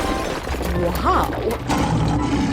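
A lion in a 3D animal slide video game lets out a short growling roar amid busy game music and effects, with excited voices talking over it.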